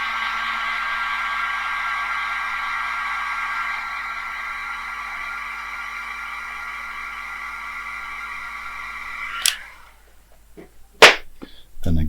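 A hair dryer blows steadily and loudly close by while drying watercolour paint, then switches off. A few sharp taps and clicks follow in the quiet.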